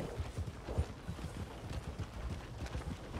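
Horse hooves clip-clop in an irregular, moderately paced rhythm on a white horse in Red Dead Redemption 2, close and fairly quiet over a soft background rumble.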